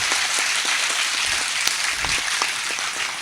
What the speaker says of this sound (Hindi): इतनी तालियों से नहीं होगी साहब